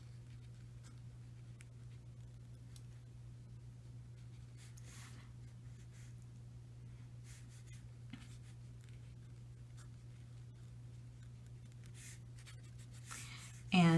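Pen scratching on paper while a chemical formula is written out by hand, faint soft strokes over a steady low hum, with no talking over it.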